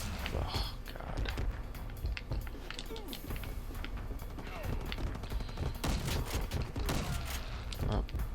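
Shotgun blasts in R.I.P.D. The Game crack out in repeated bursts amid chaotic, busy combat noise, with a voice partly mixed in.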